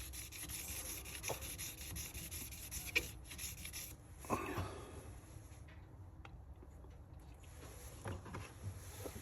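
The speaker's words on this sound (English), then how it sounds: "go again with the grain, even though there's no actual grain here, but just to change the direction of the sanding pattern, removing any scratches" Fine sandpaper of around 3200 grit worked over a smooth surface gives a faint, close, steady rubbing hiss with a few slightly louder strokes, alone without talking.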